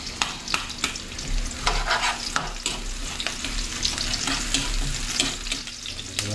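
Garlic and onion frying in a pan, stirred with repeated scraping strokes over a steady close sizzle, with irregular utensil clicks and scrapes throughout.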